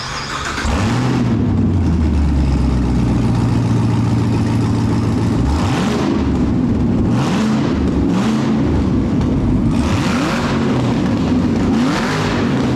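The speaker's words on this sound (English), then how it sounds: "let's try that with some revving" Chevrolet Camaro ZL1 engine revving repeatedly at a dyno test, rising and falling bursts of loud engine roar over a steady idle, close by.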